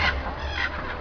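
A talking parrot performing on stage at a pirate-themed parrot show lets out a short, raspy squawk-like call, close and fairly loud, lasting about a second.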